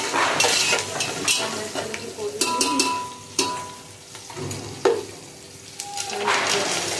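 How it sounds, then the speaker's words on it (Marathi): A spice tempering fries in hot oil in a pan while a spoon stirs it, making soft sizzling with scraping and knocks of utensil against metal. Faint talk is heard now and then. "चांगलं ढवळून चांगलं परतलं, चांगली फोडणी बसली पाहिजे अशी"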